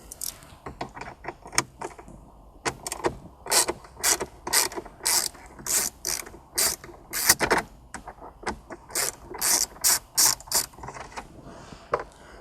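Torx screws being backed out of the dash trim of a MK5 VW Jetta with a ratchet, heard as bursts of sharp, rapid clicking strokes separated by short pauses, close and fairly loud, with no talking.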